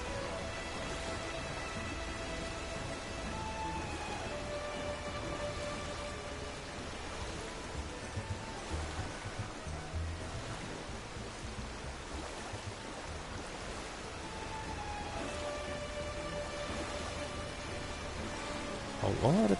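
Rain falls in Final Fantasy XIV, a continuous soft hiss of drops with faint in-game tones and chimes layered over it, and a sharper burst right at the end.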